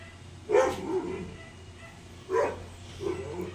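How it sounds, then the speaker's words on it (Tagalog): A dog barks intermittently, two sharp barks followed by a softer one, somewhat distant over a low background hum. "Pasensya na sa aso namin ha."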